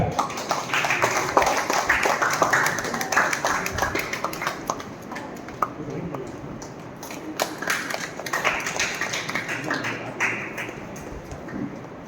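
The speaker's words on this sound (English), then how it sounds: "Let's all clap." An audience at an education awards ceremony at a convent school claps steadily and fairly close for about twelve seconds, the dense patter swelling and easing without talk over it.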